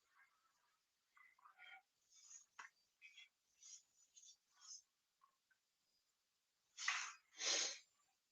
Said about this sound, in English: I'm sneezing and my nose is running.